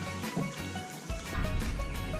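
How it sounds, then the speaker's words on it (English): A plucked chicken being lowered back into a basin of cold water, with splashing and trickling sloshes that grow fuller partway through, close and fairly loud with no talk. "And done with this, I put him back in the cold water."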